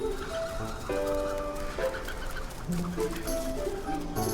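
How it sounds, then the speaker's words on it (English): A large flock of snow pigeons beats its wings while descending onto open grass, a dense, continuous whirring flutter with scattered bird calls over it. "The pigeons beating their wings sound like approaching predators."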